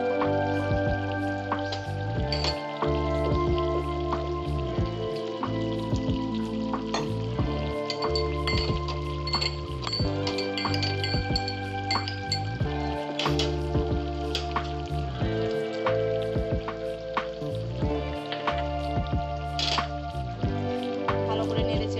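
Vegetarian doi potol, pointed gourd curry with yogurt and nut paste, bubbles in a pan while a spoon stirs it repeatedly, giving a steady close sizzle broken by rhythmic scraping strokes.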